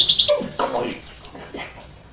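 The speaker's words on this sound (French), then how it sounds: "regarde encore mon canari, va qu'on se remette à chanter" A pet canary sings loudly and close by in a home in Belgium, a bright rapid trill of tweets with a brief pause, then a softer burst as the song trails off.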